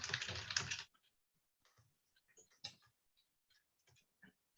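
Typing on a computer keyboard, switched to a Spanish layout: scattered light clicks and taps for several seconds, quiet and close, after a short burst of louder noise at the start.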